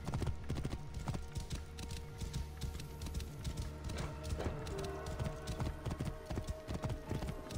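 Horse hooves clip-clop at a fast, steady gallop in Assassin's Creed Origins, with rhythmic thuds and a faint whinny over low game ambience.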